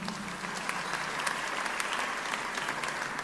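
A church congregation claps in praise during a sermon, a steady wash of many hands clapping at moderate distance, with no clear voices over it.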